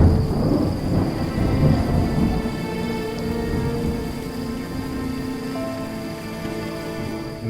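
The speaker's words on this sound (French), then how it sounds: "Des orages sans précédent frappent l'Afrique de l'Est." An East African thunderstorm: a loud rumble of thunder opens over steady heavy rain, which keeps falling as the thunder fades away.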